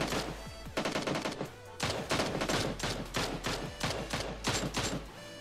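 Rapid bursts of AKM assault rifle fire in PUBG Mobile, loud and close, several tight volleys of repeated shots separated by brief pauses, with no talking.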